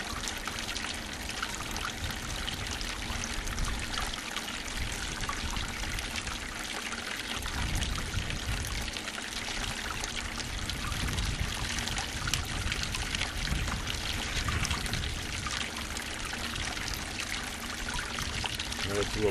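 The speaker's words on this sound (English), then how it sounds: "it's a little boring to sit here and watch the sluice run" Water pours and trickles steadily through a bucket sluice concentrator carrying black sands over its riffles, a continuous close rushing flow with no pauses.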